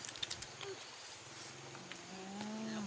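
Cattle in a rural village moo faintly in the distance, a low drawn-out call near the end over quiet outdoor background noise.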